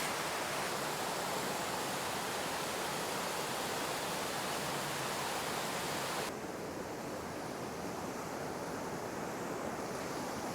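Small waterfall near a Taroko Gorge trail in Hualien, a steady broad rush of falling water that holds constant, then drops slightly in brightness partway through, with no voices.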